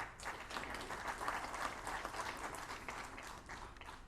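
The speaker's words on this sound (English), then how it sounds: "And one round of applause for the entire team." A round of applause for a team at a valedictory session, a dense, even patter of many hands clapping, heard from a moderate distance and fairly faint, continuing steadily without any voices.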